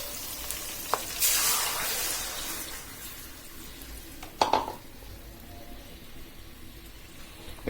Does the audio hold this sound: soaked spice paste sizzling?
yes